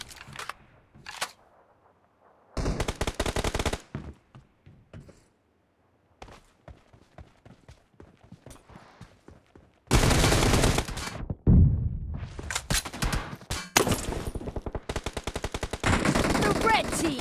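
Bursts of automatic gunfire in a BGMI team deathmatch mobile game, loud rapid volleys alternating with short quiet gaps and scattered single shots, with intense sustained firing through the second half.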